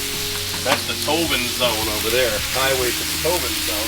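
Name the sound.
chicken stir fry searing on a Blackstone griddle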